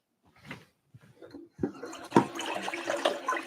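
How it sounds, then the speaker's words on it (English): Water runs and splashes into a sink as the top half of a siphon coffee maker is rinsed out, starting with a few faint splashes before a louder, steady rushing flow. "And all we're doing is rinsing it out to get rid of the particulates that are left."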